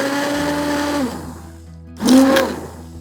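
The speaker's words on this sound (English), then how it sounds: "switch off the flame and use blender to puree the soup" A kitchen blender purées cooked lentil soup in one loud whirring burst of about half a second, after a steady low hum.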